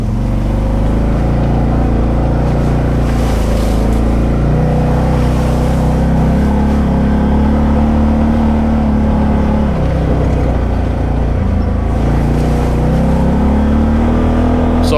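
An off-road vehicle, likely an ATV, drives with a newly installed StarKnightMT rear window, its engine droning loud and steady close by with shifting revs and brief surges, and no talk over it.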